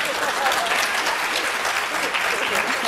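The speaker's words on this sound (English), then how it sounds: "Now, that's when you clap, okay?" A church congregation at a Mother's Day service applauds in a full, continuous burst of many hands clapping, loud and even throughout.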